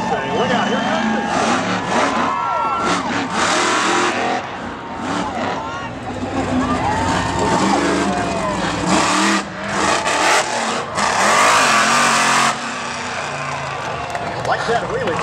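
The Bigfoot monster truck at a freestyle event, its engine roaring and revving loudly with rising and falling pitch as it charges a ramp for a jump, while an announcer talks over the noise.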